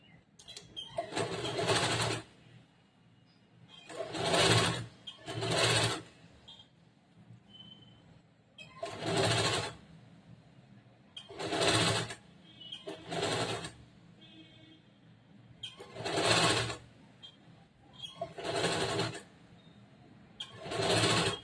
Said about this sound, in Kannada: ಈ ಶೋಲ್ಡರ್ ಮಧ್ಯದಿಂದ ಸ್ಟಾರ್ಟ್ ಮಾಡ್ಬೇಕು ಸ್ಟಿಚ್ ಮಾಡಕ್ಕೆ